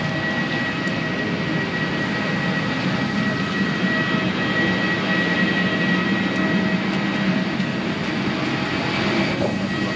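A steady, unbroken roar of a plane's engines from inside the cabin on a foggy day, a constant broadband rumble with a faint high whine and no change in level; nobody speaks.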